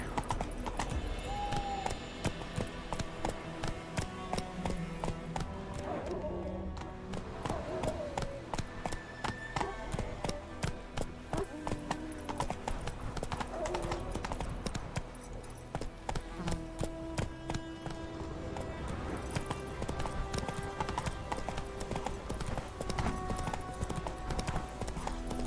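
Steady clip-clop of horse hooves galloping in The Witcher 3, a continuous rhythmic pounding over game ambience and music, with a brief whinny-like tone early on.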